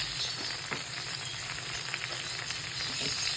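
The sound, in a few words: black pepper sizzling in melted butter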